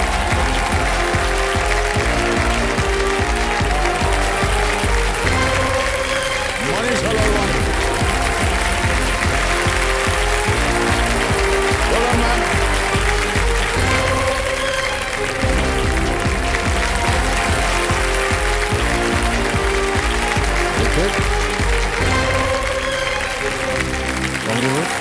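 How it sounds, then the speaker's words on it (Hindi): Studio audience applause on the KBC game show stage, a steady, dense clapping that holds loud and continuous the whole way through, with music-like tonal layers running underneath. "एक बार फिर तालियां बजाएं"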